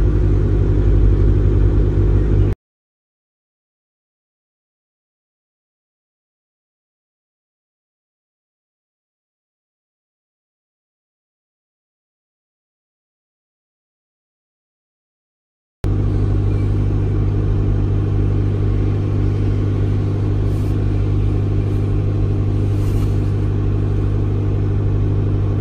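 A 2011 Skoda Superb 2.0 diesel, engine code CFFB with DSG automatic, runs during DPF regeneration with revs slightly raised. It gives a steady, close low rumble that cuts to silence for about thirteen seconds, then returns.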